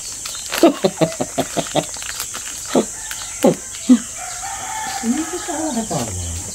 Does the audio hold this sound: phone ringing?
no